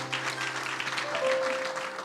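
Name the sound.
church congregation applauding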